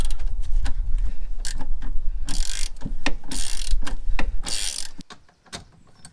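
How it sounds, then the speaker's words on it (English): A ratchet wrench removes a rear suspension nut on a Subaru Forester, with rapid close clicking and mechanical rattling plus a few louder bursts of ratchet sound, ending in quieter scattered clicks. "We can take the nut off but leave the bolt in."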